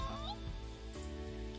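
A kitten meows in The Fruit of Grisaia visual novel game: one short, rising meow over soft, sustained background music.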